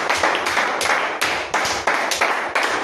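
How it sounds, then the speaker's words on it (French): A church congregation claps hands together in praise, a loud, close, steady rhythmic clapping, with a strong clap every half second or so and no talking. "Applaudissons pour le Seigneur Jésus"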